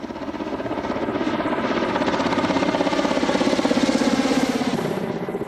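A Kamov Black Shark attack helicopter with counter-rotating coaxial rotor blades drones loudly with a rapid, even rotor chop and engine whine, swelling slightly in the middle.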